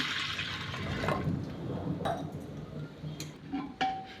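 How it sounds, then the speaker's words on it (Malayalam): Water poured into a pressure cooker holding toor dal for Kerala-style parippu curry, a steady close splashing fill with a few light clinks of the pot along the way. "ഇത് വേവുന്നതിന് ആവശ്യമായിട്ടുള്ള വെള്ളം ചേർത്ത് കൊടുക്കാം"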